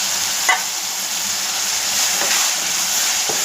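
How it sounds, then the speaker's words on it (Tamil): Masala of garlic, a medium tomato and green chilies sautéing in a pan, giving a steady close sizzle with a few soft stirring scrapes and no talk. "மசாலா நல்லா அந்த பூண்டுகள்லாம் போட்ட உடனே நல்லா வதங்கி வருது."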